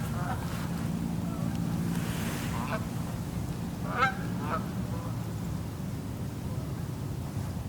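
Geese honk a few times in the distance over steady wind and low rumbling background noise.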